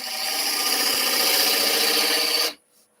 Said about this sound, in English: We could do gouge cut in there.